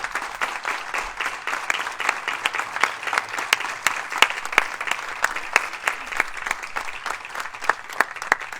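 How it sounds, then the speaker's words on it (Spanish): A church congregation claps hands in rhythm during a Sunday worship service, sharp regular beats of many hands continuing steadily throughout. "Dale palmas al Rey de Reyes"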